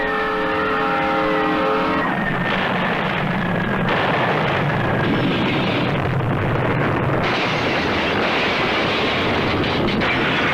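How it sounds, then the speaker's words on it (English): A train horn blares a frantic warning for about two seconds as a tornado approaches, then gives way to a loud, roaring rumble of the moving train and storm wind that continues to the end. "Aboard the train, the engineer sees it coming too, begins sounding a frantic warning."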